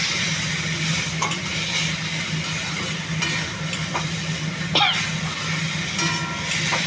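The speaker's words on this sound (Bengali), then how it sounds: "এবারে ব্রোকলিটা দিয়ে দেওয়া হচ্ছে।" Broccoli goes into a frying spice masala, a steady close sizzle with occasional spatula scrapes and light clinks against the pan.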